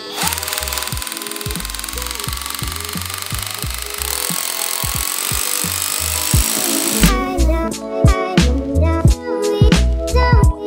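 A power drill bores a pilot hole during installation of a MaxJax portable two-post lift in a home garage, a loud steady whine with pulsing bursts, then choppier stop-start revving near the end.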